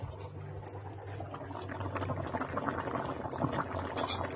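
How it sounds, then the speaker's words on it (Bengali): Potato curry (aloo dum) with Kashmiri potatoes boils in a pot, giving a steady close bubbling and popping that carries through the whole stretch without any talk. "আর এদিকে আলুর দমটা দেখো টকবক করে ফুটছে"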